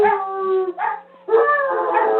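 A wiener dog howls in long, drawn-out wails, loud and close, with a short gap before a second sustained howl rises and carries to the end.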